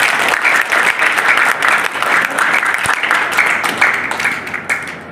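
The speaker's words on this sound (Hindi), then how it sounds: "तो मैं चाहूँगा कि आप हमारा परिवार की पूरी टीम अपने अपने लिए जोरदार तालियां बजा दें।" Loud, sustained applause from an audience for the Hamara Pariwar team, a dense wash of many hands clapping steadily without pause.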